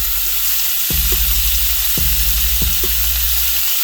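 Applewood smoked bacon strips, about four, sizzle steadily in a pan with a loud continuous crackle, broken by three brief knocks or pan sounds.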